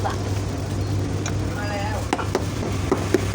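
A leather Timberland boot sole is hammered on a three-legged iron shoe last, giving several sharp, close knocks in the second half, after a voice speaks over low background noise.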